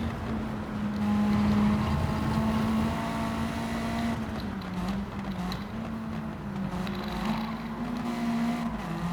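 Car engine fitted with a stock semi-racing silencer in Gran Turismo 7, droning at a steady pitch that dips and rises with gear changes, close and continuous.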